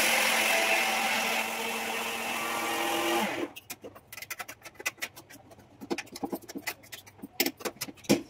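A mixer grinder churns wet soaked rice loudly for about three seconds, then cuts off, followed by scattered knocks and scraping as the jar is handled.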